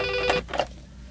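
A cellphone ringtone chirps in a short electronic burst followed by two brighter pulses, fairly close and clear over a low steady hum, with no voices.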